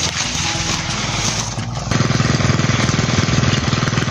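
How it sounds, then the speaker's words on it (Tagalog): A water pump engine, running in a cornfield, chugs loudly and steadily close by, its rapid rhythmic thumping taking over after a brief rougher patch, with no talking. "Andar na yung makina o."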